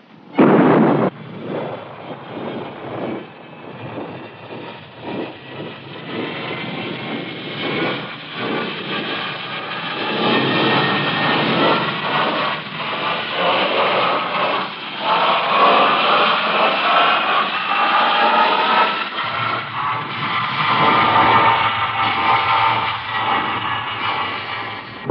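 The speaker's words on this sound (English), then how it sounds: "Countdown for blastoff." Rocket blastoff effect from a radio drama, a sudden heavy roar that builds into a long, loud, rumbling thrust with crackling texture, sustained for about twenty-five seconds.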